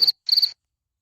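A mobile phone ringtone imitating a cricket goes off in two short bursts of high, rapid trilling chirps, a brief burst followed by a slightly longer one, then silence.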